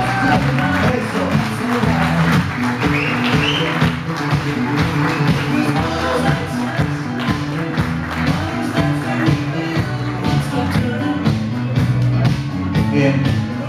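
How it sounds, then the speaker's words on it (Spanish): A crowd at a year-end dinner party claps and cheers over loud music playing throughout, a continuous wash of hands mixed with voices. "Fuerte aplauso"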